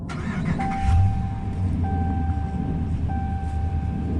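A Ram 1500 Bighorn's 5.7 liter engine cranks and catches with a brief low surge, then settles into a steady idle, heard close from inside the truck with repeated chime tones sounding over it.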